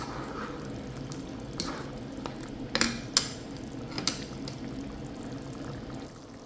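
Cooked sago pearls spooned into a mashed banana and jaggery mixture for ethapazham pradhaman, giving a few soft wet plops and light clinks of a utensil against the pan, faint and close, with no talking.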